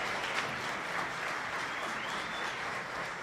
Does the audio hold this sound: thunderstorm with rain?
no